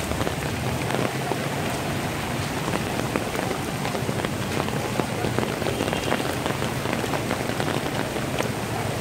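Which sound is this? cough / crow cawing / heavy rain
heavy rain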